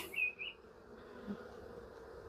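Honey bees buzzing around an open hive during an inspection, a soft, steady drone with a brief louder whine of one bee passing close near the start, no voices.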